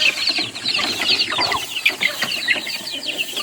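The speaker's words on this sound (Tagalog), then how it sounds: "Isang buwan na mga sisiyo ko to. Ayan, iduwam natin mga kabakyard. Medyo madami-dami tandang." Month-old chicks and several roosters cluck and cheep busily around feed in a backyard flock, a dense, close chorus of overlapping clucks and peeps with no talking.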